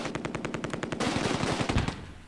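Rifle fire in the World War II video game Close Combat: A Bridge Too Far, a rapid burst of repeated shots followed by a dense, loud crackle of gunfire, with no talk.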